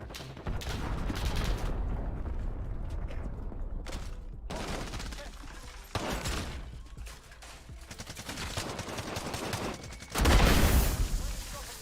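A video game cruise missile strike with explosions: rapid gunfire bursts and booming blasts come in repeated waves, ending in one heavy, loud detonation, with voices heard faintly underneath.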